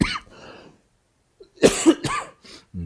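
Several harsh, close coughs come in a short cluster, with a brief pause between the first and the rest.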